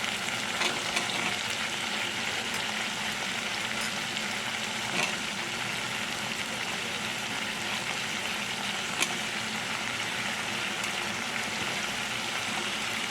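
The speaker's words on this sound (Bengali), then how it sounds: "কুমড়োটা ভাজা হয়ে যাক" Pumpkin pieces fry in oil in a pan for a Bengali kalmi-stalk chorchori: a steady, dense sizzle holds evenly throughout with small crackles and no voices.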